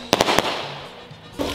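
Fireworks at a large New Year's show burst in a quick series of sharp cracks near the start, then a low rumble fills the gap before another loud pop lands at the end.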